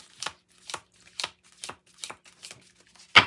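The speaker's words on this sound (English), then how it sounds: "I've split the deck in 2 because they're just too hard to shuffle the other way." A split deck of tarot cards is shuffled in quick, crisp riffling bursts, about seven evenly spaced, close and clear, ending with a louder snap.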